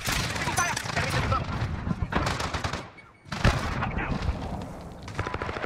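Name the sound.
gunfire in Call of Duty Modern Warfare 2019, video game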